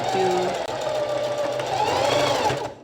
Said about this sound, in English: And this part I do sew over the pin.